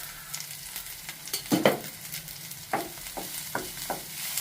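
Green chilli pieces and turmeric go into a pan of softened onions, giving a low, steady sizzle with several short stirring scrapes and clatters, close and without talk.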